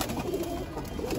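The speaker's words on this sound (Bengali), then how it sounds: "এই হচ্ছে এখানকার কবুতরগুলো, দিক দিয়ে বাড়াগুলো, এরাও খাওয়া দাওয়া ব্যস্ত" Pigeons feeding coo softly and steadily at close range through a short stretch, with an airy hiss and a faint high electronic whine in the background, and no one talking.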